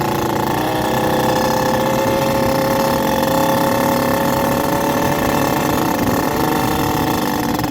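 A moped engine held at high revs under throttle, a loud, steady, close buzzing drone with a slowly shifting pitch over the whole stretch, no talking.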